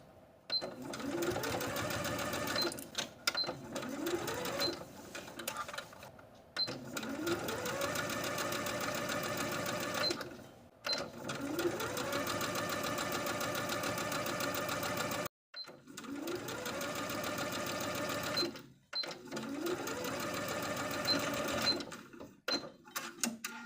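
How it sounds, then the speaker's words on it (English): A sewing machine runs in long bursts, stitching bias tape along the folded inner edge of a tank top armhole, with short pauses between each run and no talking. "we're going to take it to our sewing machine, and sewing from the inside of the garment, we're going to sew all along that folded inner edge of the bias tape"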